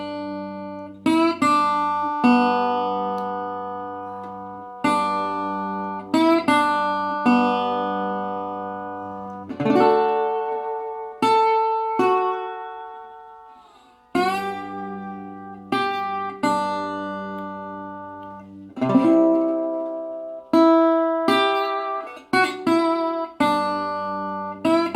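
Slide guitar plays Silent Night with fuller chords and bass notes, each phrase ringing and slowly decaying, with sliding pitch between notes; close, solo and unaccompanied, with no voices.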